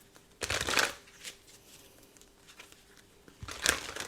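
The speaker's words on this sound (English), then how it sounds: "Heavily shuffled both decks." A tarot card deck is heavily shuffled close by in two brisk, crisp riffling bursts separated by a quieter stretch of faint card handling, with no talk.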